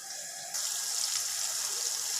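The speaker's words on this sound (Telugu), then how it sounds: "నాలుగు గ్లాసులు వాటర్ వేద్దాం" Water poured into a pot of rice, a faint hum followed by a sudden, continuous rushing gush close by that lasts to the end.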